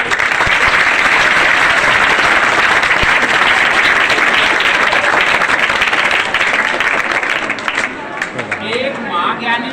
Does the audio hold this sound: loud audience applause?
yes